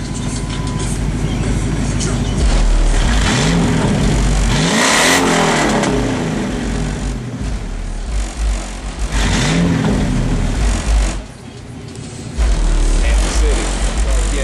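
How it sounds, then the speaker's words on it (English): A Ford Explorer engine revved a couple of times while parked, loud close rises and falls in pitch over a steady idle, with a brief drop near the end. "Want to give it a couple of revs, juice the battery up just a little bit, get a little bit of exhaust."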